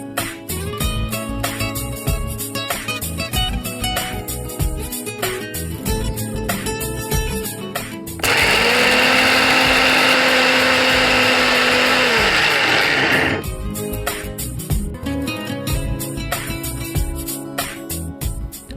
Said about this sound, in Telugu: మనం ఇది పొడి కొట్టేసుకుందాం